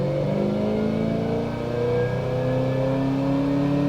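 A supercharged, cammed 2010 Camaro SS with a Kenne Bell blower revs under load on a dyno in fourth gear, its engine note climbing steadily in pitch, loud and close, with no voices.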